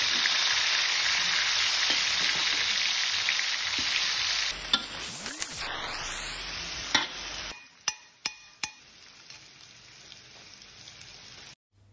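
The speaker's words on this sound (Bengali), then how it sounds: "তো সেই চিকেনটাকে এখন আমি ভেজে নিচ্ছি।" Marinated chicken for butter chicken frying in a pan, a dense rain-like sizzle for several seconds, then an abrupt shift to a quieter background with a few sharp clicks and taps before it cuts off.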